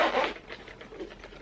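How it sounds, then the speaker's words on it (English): The zipper on a makeup bag is drawn open in one quick, loud rasping pull, followed by softer ticking and rustling as the bag is handled. "Get the zipper out."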